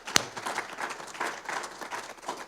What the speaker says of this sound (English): So can we give one more round of applause for our surgeons?